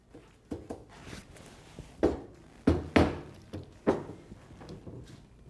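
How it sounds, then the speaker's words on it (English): A porcelain toilet tank is handled during a plumbing repair, a series of hollow thunks and knocks as it shifts and is set down, fairly close with short gaps between impacts and no talking. "the first thing I'm gonna do is take the tank off"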